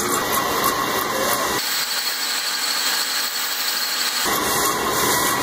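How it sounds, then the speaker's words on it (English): A metal lathe takes roughing cuts on a steel drive shaft for a bandsaw mill, a steady cutting and machine hum that drops away briefly mid-pass before resuming, close and fairly loud. "Here we are on the lathe, taking some roughing cuts."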